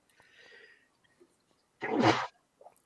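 A single sharp sneeze bursts out nearby after a soft breathy sound, followed by a brief faint noise; otherwise quiet.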